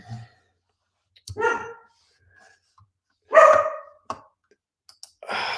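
A dog barks nearby in short separate bursts, several loud barks and yips with quiet gaps between them, heard alone without talking.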